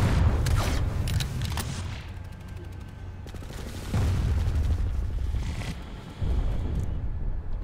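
Several sharp gunshots ring out while sniping in the video game Planetside 2, loud booming cracks spaced a few seconds apart over continuous background battle noise.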